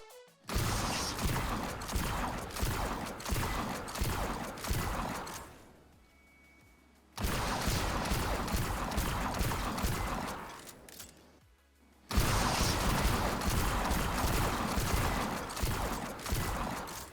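Trachinus shotgun in Destiny 2 firing rapidly with an assault mag, loud dense blasts packed into two long bursts separated by a brief lull, close and continuous without pause between shots.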